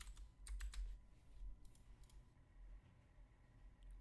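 Password being typed on a computer keyboard: quick bursts of faint key clicks, close and quiet, with short pauses between groups of presses and no talking.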